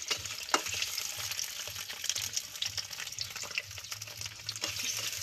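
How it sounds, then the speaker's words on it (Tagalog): Hotdogs frying in a little hot oil in a very hot pan, a continuous crackling sizzle with small pops and spatters, moderately close and fairly quiet, no talking. "Malusik ang mantika."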